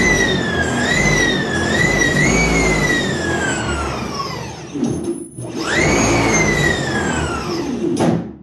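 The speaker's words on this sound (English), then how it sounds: "we seem to have both motors running in tandem and running relatively smoothly together" Steady loud whining drone of two electric airboat motors running together, with rising and falling high-pitched tones, briefly dipping and then surging again; close and continuous, no talking.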